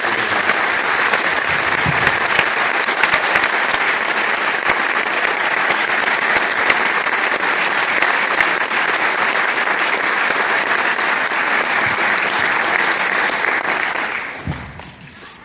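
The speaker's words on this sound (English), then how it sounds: "I'd like you to give one more round of applause because they worked very, very hard." A middle school concert band's audience claps in a full, steady round of applause after a school concert, sustained and dense throughout before tapering off at the very end.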